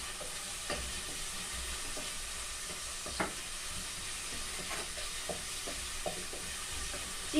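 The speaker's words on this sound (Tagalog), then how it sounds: "Gisa-gisa lang natin ang sibuyas." Onions sauté in a pan for chicken curry, giving a steady close sizzle with occasional scrapes and stirring clinks from a utensil.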